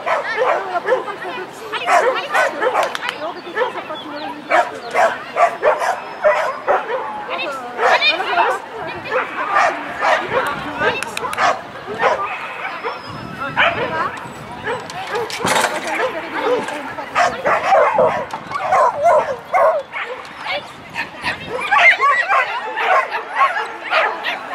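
A dog at an agility competition in Besançon yips, whimpers and barks in quick excited bursts while people chatter and talk steadily in the background.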